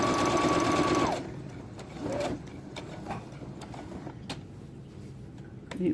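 A sewing machine stitching a fabric face mask, a brief fast whirring run that stops after about a second, followed by quiet clicks and handling sounds.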